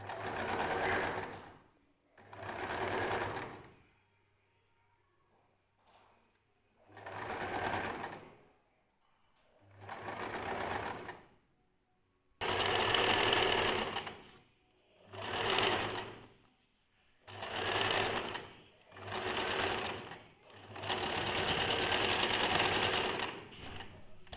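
Sewing machine stitching a dress sleeve, running in about nine distinct bursts of steady mechanical whirring separated by near-silent pauses, close and moderately loud.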